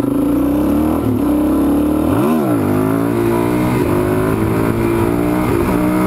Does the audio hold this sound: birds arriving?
no